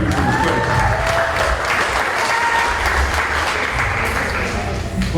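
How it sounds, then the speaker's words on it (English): Church congregation clapping hands in praise during a service, a steady, dense wash of applause filling the room throughout, with faint voices underneath. "Let's give God a hand clap of praise"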